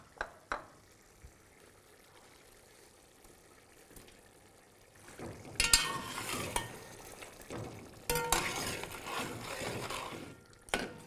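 Potatoes for mutton pulao stirred in a hot pot, quiet clinks at first, then loud sizzling frying bursts as they hit the oil, with scraping stirs, no talk.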